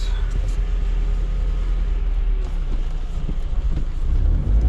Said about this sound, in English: That is one busy intersection.